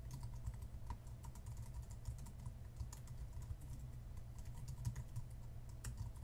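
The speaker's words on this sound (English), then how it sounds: "So I need to type over this." A computer keyboard is typed on quietly in irregular bursts of soft key clicks while a web address is entered, heard over a steady low hum with no talking.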